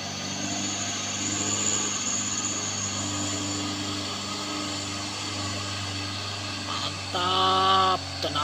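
A loaded bus engine laboring up the steep Kedabuhan climb on the road toward Sinabang: a steady, heavy low drone that holds without letup, with a brief louder tonal burst close to the end.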